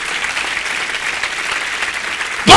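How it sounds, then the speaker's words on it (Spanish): A church congregation claps together in a steady, dense wash of applause, close and loud, with a sudden louder sound cutting in at the very end. "¡Dele palmas al que vive,"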